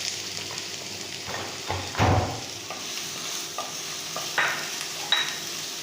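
Three finely chopped onions hit hot oil in a pan while cooking chana masala, giving a steady sizzle with a louder burst around two seconds and scraping stirs throughout, with no talk.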